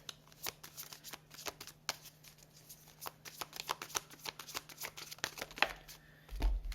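Tarot cards are shuffled by hand in a rapid series of crisp riffles and snaps, heard close and fairly quiet, with a soft thump near the end.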